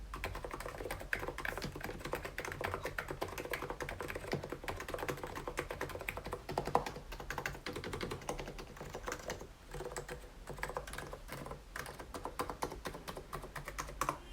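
Steady typing on a Hansung Gtune GK893B wireless tenkeyless capacitive (electro-capacitive) keyboard, with soft, muted keystrokes in a continuous rapid stream, close and fairly quiet, with no voices.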